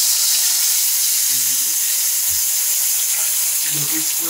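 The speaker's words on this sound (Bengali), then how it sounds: "দেখুন আমাদের তেল গরম হয়ে গেল। এবারে আমরা দিয়ে দেবো সেই আমাদের বেগুন সুন্দরী।" Whole eggplant pieces for begun sundori frying in hot oil, a loud steady hissing sizzle throughout with faint clinks of the pan in the background.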